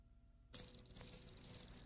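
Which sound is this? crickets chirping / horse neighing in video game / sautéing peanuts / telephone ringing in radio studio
crickets chirping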